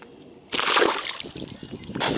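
Water splashes loudly as a 1.4-pound bedding bass is released, a sudden burst of sloshing spray followed by a second splash after a moment, close to the microphone.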